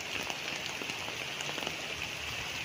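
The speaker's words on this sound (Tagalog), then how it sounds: "lumakas na ang ulan oh" Heavy rain pours down steadily on a lanzones farm lot in Magdalena, Laguna, Philippines, a dense, even hiss of drops striking surfaces with no voices.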